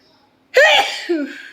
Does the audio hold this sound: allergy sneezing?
yes